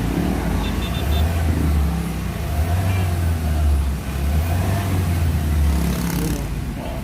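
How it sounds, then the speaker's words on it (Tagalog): A Ford Ranger engine runs close by with a deep rumbling idle that swells in a few slow throttle blips, after a fix for throttle delay, vibration and low power, with someone talking over it. "and then yung andar ng engine"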